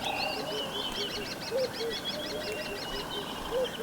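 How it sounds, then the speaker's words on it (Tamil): Birds chirp in a forest within the video game Seclusa, a repeated run of short, high twittering notes holding a steady rhythm over a soft ambient bed. "குருவி கத்துற சவுண்டு."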